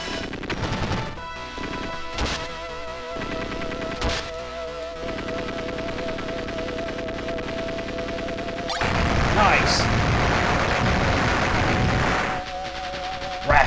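Gunfire and blasts from the video game Contra Hard Corps, sharp bursts and crashes over a steady electronic game soundtrack, getting louder and denser in a sustained barrage toward the end.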